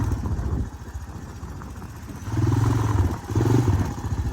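A four-wheeler ATV engine on sand dunes revs and idles nearby in uneven surges, its rough mechanical drone rising and falling in pulses.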